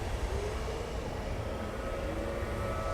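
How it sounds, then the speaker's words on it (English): A low, rasping, wet breathing drone with a mechanical undertone from a sick breathing-bag creature in the game Dead Space 2, steady and continuous throughout, dense rumbling texture with no distinct breaths standing out. "that's the sound of the sprawl breathing bag getting sicker and sicker"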